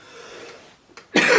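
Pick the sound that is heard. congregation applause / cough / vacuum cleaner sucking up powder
cough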